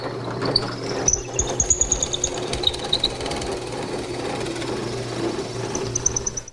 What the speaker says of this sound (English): To complete the hole, I'm going to raise the table up, letting the bit slide through the part of the hole I've already drilled